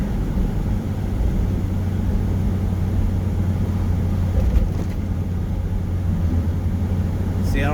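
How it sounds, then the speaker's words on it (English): A truck rolling downhill at about 30 mph in a lower gear, engine braking to hold its speed, gives a steady low, loud engine drone throughout with constant road and cab rumble. "I'll just put it in lower gear, let the engine kind of slow me down"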